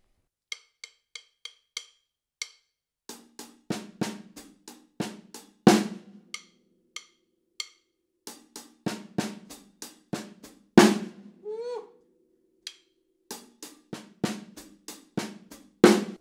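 A slow drum groove played alone, with crisp hi-hat ticks, sparse kick and snare hits, and paired hi-hat strokes between steady beats.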